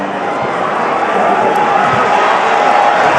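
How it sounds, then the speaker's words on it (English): A large boxing arena crowd roars and murmurs in a continuous, loud wash before the opening bell, with voices talking over it. "The crowd will tell you what this moment is all about as they await the first bell"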